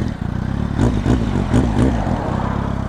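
Small-displacement motorcycle idling and blipping through a small aftermarket exhaust, a close, steady low rumble with a few quick revs in the middle, no talking.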